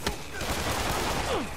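Bursts of distant gunfire from enemies in a Spider-Man video game, sharp cracks layered over dense game effects and electric zaps, loud and cluttered for a moment of combat.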